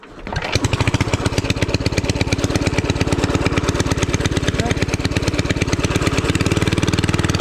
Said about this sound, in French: Là on va démarrer l'engin.